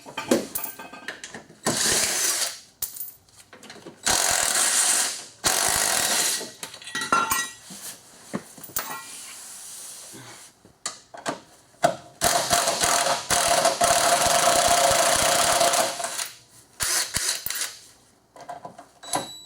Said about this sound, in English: Yeah, I can use the impact on this side.